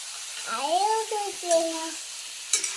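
Potatoes frying in a pan with cauliflower and beans give a steady, soft sizzle beneath a voice, which speaks and hums throughout the short stretch.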